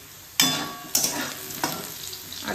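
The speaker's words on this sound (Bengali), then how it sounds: "দেখো এখানে আলু ভাজা হচ্ছে" Potatoes frying in a pan and stirred, with sizzling throughout and three or four loud scraping stirs at a steady pace, close up and without talk.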